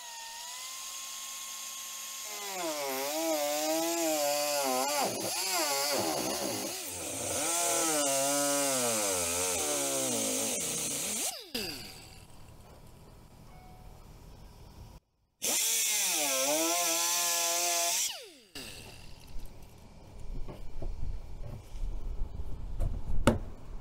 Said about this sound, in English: To cut this, we're going to use a angled die grinder and a cutoff wheel.